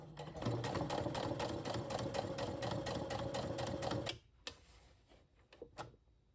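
A sewing machine stitches a seam on a boxy bag, rapid even mechanical ticking for about four seconds, then stops, leaving faint handling noises.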